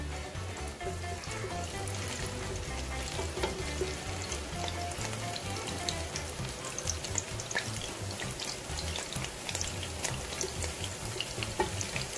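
Sliced onions frying in half a cup of oil in a karahi for chicken karahi, a dense, continuous crackling sizzle with scattered sharp pops throughout, close and steady.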